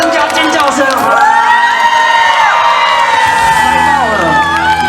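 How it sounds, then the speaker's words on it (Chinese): Outdoor crowd at a festival concert cheering and screaming together, loud and close, a continuous wash of overlapping voices with shrill whoops rising and falling, with little distinct clapping. "给自己一个掌声加尖叫声"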